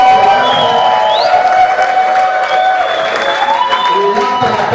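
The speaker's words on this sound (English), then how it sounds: "Can we give a better round of applause, ladies and gentlemen?" Crowd applause and cheering from an audience at a youth mentoring masterclass, steady and loud, with whoops and talk-like voices mixed into the noisy hall.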